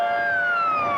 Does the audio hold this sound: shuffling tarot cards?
no